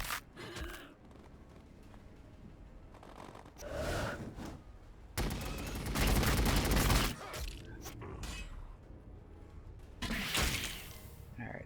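Gunfire in Warhammer 40k Battlesector, with scattered bursts and one heavy sustained volley in the middle, plus later loud blasts, set against quieter battlefield ambience between the shots.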